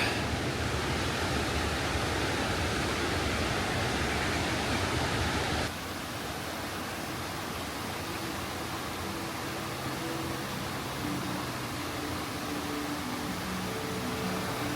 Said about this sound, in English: we were led to this hidden waterfall. Flowing straight through a cave carved into the mountainside